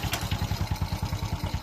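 A Honda XRM 125 motorcycle engine idles after starting, giving a steady, close, rapid putter of even pulses with a slight mechanical clatter.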